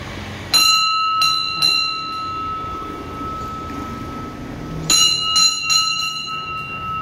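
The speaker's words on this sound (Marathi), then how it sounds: "घंटी वाजवायची." A temple bell rung at a shrine on Ashadhi Ekadashi, two bursts of several bright metallic clangs with long ringing decay between them, close and loud over faint background murmur.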